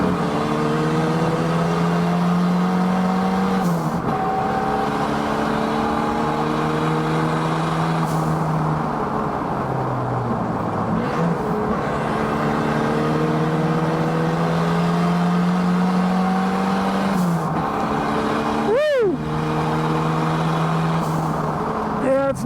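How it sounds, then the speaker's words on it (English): Exocet tube-frame kit car built from a Mazda Miata revs loudly through repeated rising engine pulls and gear changes, close and sustained, with a sharp whine sweep near the end. "That was an Exo set, which is a little tube frame kit car made out of a Mazda Miata."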